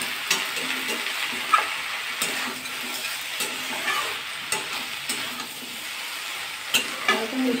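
A fish-head curry of rohu with five kinds of vegetables is stirred in a pan. The frying sizzles steadily throughout, with repeated scraping strokes of the spoon and no one talking.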